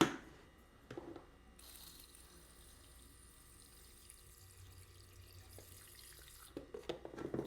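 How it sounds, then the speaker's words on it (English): Water poured or trickled into a tarantula enclosure for an orange baboon tarantula, a faint, quiet splashing and dribbling that runs for several seconds with a few small knocks at the start and end. "Oh, I'm going to add some water."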